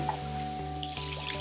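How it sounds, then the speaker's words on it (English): Water drips from rock beside small river waterfalls on the Dawki/Umngot river in Meghalaya, with a few light drips over a constant rushing background. "water dripping from right above me"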